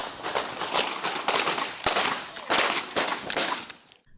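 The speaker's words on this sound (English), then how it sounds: "Gunfire broke out." Gunfire crackles in a dense burst of sharp, rapid cracks over several seconds during a police encounter at a house, loud and close with no voices.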